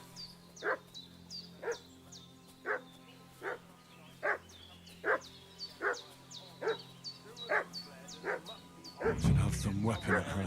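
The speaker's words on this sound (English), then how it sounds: "What's that dog making such a fuss about?" Dog barking in the medieval open-world game Kingdom Come: Deliverance 2, a steady run of sharp, evenly spaced barks at moderate distance over a quiet game ambience, ending in a louder burst of mixed noise.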